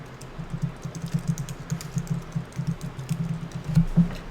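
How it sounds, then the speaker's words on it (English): Rapid, steady keystrokes on a computer keyboard in a coding livestream setting, close and clear with an uneven clicking rhythm and a couple of heavier thumps near the end, no voices. "What do you folks think of my keyboard noise though?"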